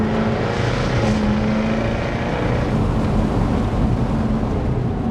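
Broad, rising roar of a Jaguar F-type R V8 accelerating in sport mode, heard close and loud as a continuous rush of engine and road noise with no talking.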